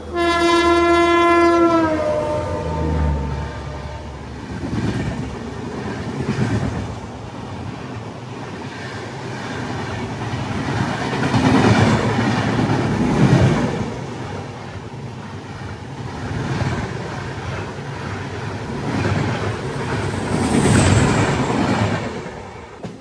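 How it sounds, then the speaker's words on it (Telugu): An express train sounds its horn, then thunders past close by while a MEMU train waits on a loop line, wheels rumbling and clattering over the rails in waves before easing off. "మన బండిని లూప్లో పెట్టి ఒక బండి అయితే వెళ్ళింది కదా"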